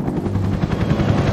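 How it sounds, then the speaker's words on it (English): Helicopter in the video game Left 4 Dead 2, a steady, loud rotor thump with rapid chopping pulses filling the whole stretch, with no talk over it. "The helicopter's found us."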